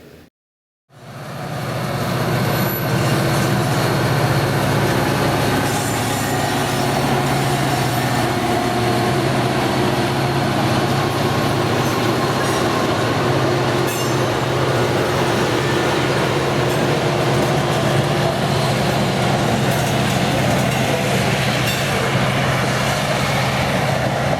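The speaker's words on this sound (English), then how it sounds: "we made our way over to the yard and saw some locomotives doing switching" Locomotives switching in the rail yard at Galesburg, Illinois, including BN54, a one-of-a-kind TEBC6 rebuilt from a Burlington Northern SD9: a steady, loud diesel rumble with rail noise that runs without a break for the whole stretch.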